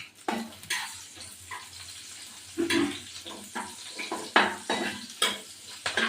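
Steady frying sizzle with repeated scraping strokes of a spatula stirring fish roe in a pan, close and moderately loud, no voices.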